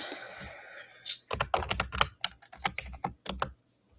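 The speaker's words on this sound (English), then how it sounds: "Apologize for my typing." Rapid, close keystrokes on a computer keyboard come in an uneven burst of sharp clicks, preceded by a quieter hiss, then stop into near silence.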